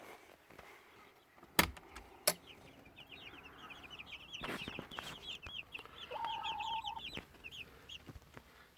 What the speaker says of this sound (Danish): Lad os se til kyllingerne, hvordan de går og har det.